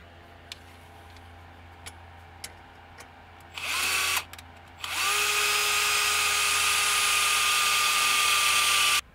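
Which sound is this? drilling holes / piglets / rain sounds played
drilling holes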